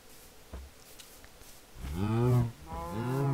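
Cows in the video game Minecraft give two drawn-out moos, close and fairly loud, that swell and fade in the last half, after a quiet stretch with a faint thump.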